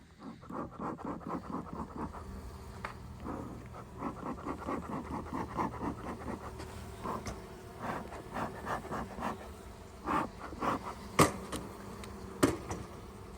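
Honey bees buzzing around hives during winter hive work on a ranch, a low, wavering drone rising and falling in pulses, fairly close, with scattered light rustles and no talk.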